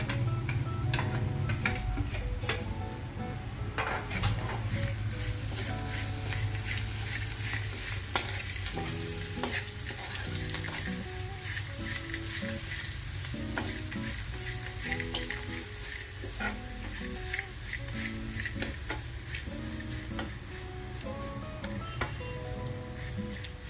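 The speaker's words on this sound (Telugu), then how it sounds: "ఇప్పుడు తురుము పెట్టుకున్న మామిడికాయ తురుము, కొత్తిమీర రెండు వేసి కలిపి కొంచెం వంటనివ్వాలి" Grated raw mango and coriander are stirred in a frying pan, a continuous close sizzle and fry broken by repeated scraping and clinking spoon strokes against the pan, with a faint hum running underneath and no one talking.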